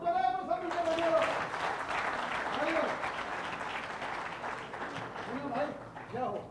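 An audience claps together at the Navratna Awards 2023 stage event. Dense, steady applause fills the space while voices call out over it, and the clapping thins toward the end.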